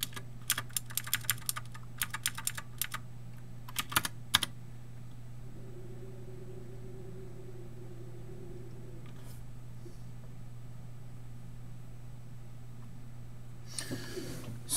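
Bursts of rapid typing on a computer keyboard while a Raspberry Pi server is set up, clustered in the first few seconds and again briefly near the end, over a steady low electrical hum with a quiet stretch between.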